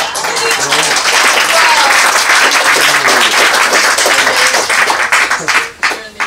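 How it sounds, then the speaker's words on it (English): Audience at an academic retirement symposium gives a warm round of applause, steady dense clapping with some voices mixed in, fading toward the end. "please a round of applause for Howie"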